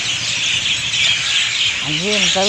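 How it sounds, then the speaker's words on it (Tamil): A dense chorus of birds chirps and twitters continuously in the distance at dawn around 5:45 am, with a few louder, drawn-out calls rising near the end. "எவ்வளோ பறவைகள் சத்தம்"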